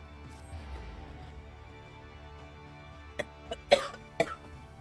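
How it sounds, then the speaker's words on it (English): A few sharp coughs come in a short cluster near the end, close and loud against a quiet background hum from Final Fantasy XIV gameplay. "I apologize for all the coughing"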